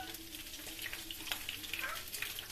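Mussels frying in hot oil for a Turkish fried-mussel dish, a steady close crackling sizzle with scattered pops running throughout, no talk over it.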